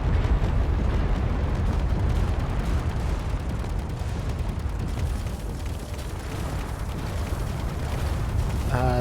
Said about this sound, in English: The other two mods I put on were critical reactor explosions and jump drive critical explosions.